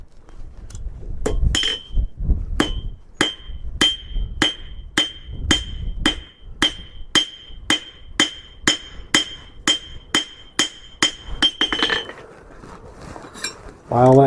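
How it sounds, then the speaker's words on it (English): Rhythmic ringing hammer blows on hot metal as a forged cabinet handle is shaped, about twenty steady clanging strikes close by, slowing then turning to scraping at the end. "Now, rounding side of the hammer."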